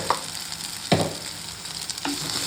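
Spicy garlic brinjal curry is stirred in a frying pan, a continuous sizzle broken by three distinct scraping strokes of the spoon against the pan, close and clear with no one talking.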